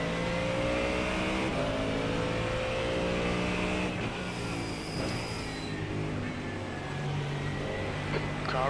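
A GT3 race car in iRacing accelerates hard, its engine note climbing through several upshifts with rising harmonic sweeps, loud and close, while another car's engine blends in briefly.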